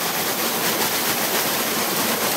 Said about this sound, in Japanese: うわ、すごい川の流れ。